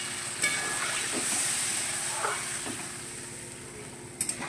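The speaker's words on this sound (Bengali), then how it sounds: "এবার জল দিয়ে দেবো, পরিমাণ মতন জল দিয়ে দিলাম।" Water poured into a hot pan of mango curry sets off a broad, steady hiss and sizzle that slowly fades, close by with faint clinks and no talking.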